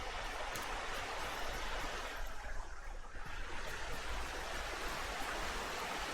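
A waterfall in the game Among Trees rushes with a continuous, dense broadband roar. It stays close and steady throughout, dipping only briefly, and no voices are heard.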